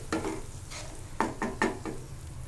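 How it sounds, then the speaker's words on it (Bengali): Spice paste for paneer butter masala is stir-fried in a kadai, giving repeated close scraping and sizzling strokes in an irregular rhythm, with no talk. "এবার মশলাটাকে ভালো করে কষিয়ে নেব"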